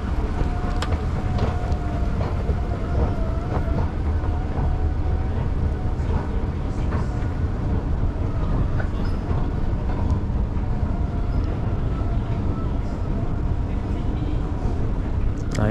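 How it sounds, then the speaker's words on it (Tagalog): Train in Auckland, New Zealand, a loud continuous rumble of rolling wheels and carriage noise with scattered squeaks and clicks, steady throughout, with people talking faintly. "Baba tayo sa tren dito."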